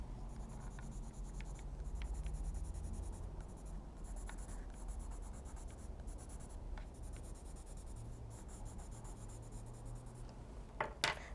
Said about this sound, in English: I'm going to get out my yellow marker, my yellow pencil here, and I'm going to draw some mounds of sand back here